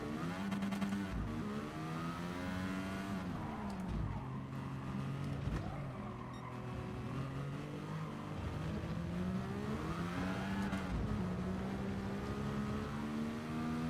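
A turbocharged race car engine in the video game GT Sport revs and roars continuously, the pitch climbing and dropping through gear changes, loud and close throughout.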